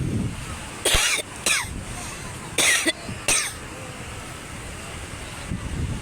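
A woman coughs in a few sharp bursts, two close pairs, outdoors at a crowded seaside with wind and surf rushing steadily in the background.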